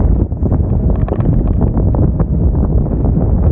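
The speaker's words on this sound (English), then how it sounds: "It's quite windy today from the south." Steady, loud wind buffeting the microphone with a low, rumbling roar and no talking.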